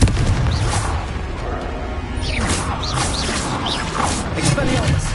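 Confringo blasting spells in Hogwarts Legacy go off as repeated booming explosions with whooshing bursts, loud and close over a dense, continuous layer of game effects.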